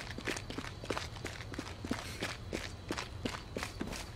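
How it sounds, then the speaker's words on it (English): Steady footsteps in the H1Z1 early-access survival game, an even walking rhythm of soft thuds over a low ambient hum, fairly loud and close, with no talking. "the footsteps in this game you can hear for miles"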